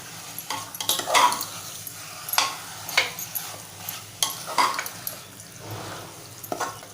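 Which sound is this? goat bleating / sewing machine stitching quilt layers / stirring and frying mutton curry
stirring and frying mutton curry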